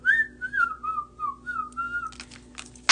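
A person whistles a wavering, melodic tune up close, the notes gliding and sliding in short phrases, ending with a few scraping handling noises.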